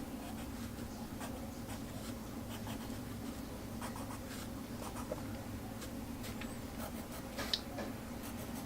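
An HB graphite pencil scratches steadily across paper in close, quiet strokes, making a continuous soft scraping texture with faint ticks and no talking.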